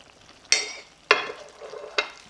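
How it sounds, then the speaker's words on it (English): Butter chicken topped with cilantro being stirred in a pan, three quick scraping strokes of a spoon with a light sizzle between them, close and brief, no talk. "Stir."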